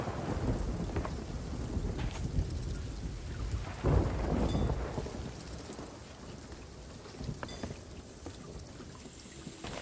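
Thunderstorm in the Sea of Thieves video game, with steady rain and rolling thunder, a loud crack of lightning striking close by near the middle, and a few brighter claps throughout.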